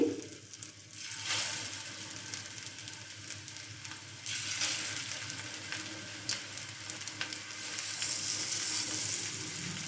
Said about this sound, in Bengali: এইগুলোকে আমি বেশ ভালো করে মুচমুচে করে ভেজে নেব